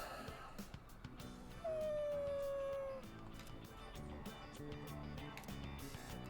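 A dog howls in the video game Persona 3 Reload, one clear drawn-out howl that slowly falls in pitch, sounding over a background music track with steady beats.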